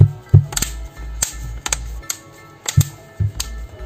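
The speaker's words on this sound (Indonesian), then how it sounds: "suaranya kayak yang patah beletak-beletek ya" Plastic back cover of a Samsung Galaxy Tab A T295 tablet being pressed into place during repair, a run of sharp close clicks and snaps at irregular intervals over low handling noise.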